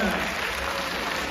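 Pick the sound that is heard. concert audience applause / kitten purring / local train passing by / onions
concert audience applause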